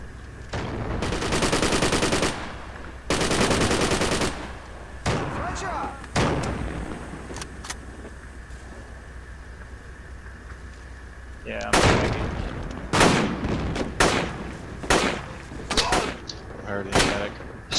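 Gunfire in the military video game Project Reality: loud sustained bursts of automatic fire alternate with heavy single shots and rapid volleys, and voices speak between them.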